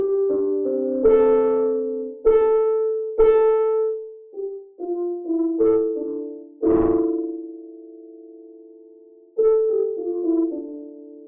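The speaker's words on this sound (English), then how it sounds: "choose myself some sort of distortion type" EastWest virtual piano notes and chords played with a gritty, overdriven distortion tone, struck one at a time with decaying tails and gaps between.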